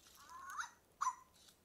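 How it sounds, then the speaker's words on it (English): An electronic toy dog, switched on, gives two short, fairly faint synthetic barks about half a second apart, the first rising and drawn out, the second sharper, with no voices over them. "Oh, he's just a little barking dog."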